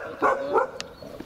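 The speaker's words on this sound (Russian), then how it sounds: "вот эта маленькая собачка может броситься" A small dog gives two quick, close, yappy barks in succession, followed by a faint whimpering yip, with a stray click in between.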